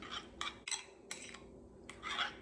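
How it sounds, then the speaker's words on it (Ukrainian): Soft scraping and clinking of a utensil stirring a yogurt and mayonnaise dressing in a bowl, in a few uneven strokes, quiet and close, with no talking. "І все це зараз отак перемішую."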